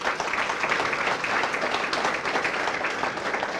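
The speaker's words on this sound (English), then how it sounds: "Nice round of applause for them, please." A round of applause at a junior fire academy graduation ceremony in Linden, a dense, fairly close burst of clapping that runs evenly throughout.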